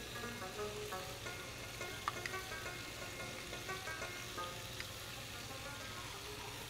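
Plain yogurt stirred into food sizzling in a pan, a faint steady frying hiss with small scattered crackles and scrapes.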